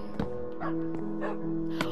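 Minecraft dogs give several short, bright barks and yips at uneven intervals, fairly close and fairly faint, over a low steady game tone.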